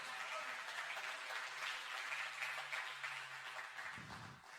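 A church congregation at a Sunday service applauds as a steady, distant wash of many hands that fades out near the end, faint throughout.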